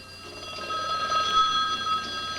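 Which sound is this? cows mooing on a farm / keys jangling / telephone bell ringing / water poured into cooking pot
telephone bell ringing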